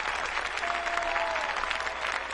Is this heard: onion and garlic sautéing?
no